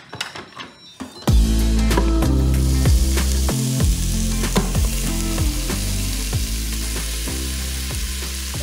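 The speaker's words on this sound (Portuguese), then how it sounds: "E agora vamos colocar ela para selar aqui na panela." Pork ribs searing without oil in an electric pressure cooker pot, starting with a sudden loud sizzle that continues as steady frying and crackling, near and alone with no talk.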